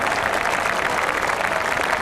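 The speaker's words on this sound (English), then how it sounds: "A touch of magic that the crowd generously applaud to certainly wrap up the game." Steady applause from a rugby crowd at a 1988 Wallabies tour match in England, a dense continuous clatter of clapping from a large stadium audience with no voices over it.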